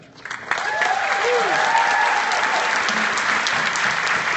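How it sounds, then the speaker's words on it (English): An audience at a teachers' social justice keynote breaks into applause, building quickly from a few claps into a loud, sustained wash of clapping from a large crowd. "I'm going to ask you to hold your applause till the end"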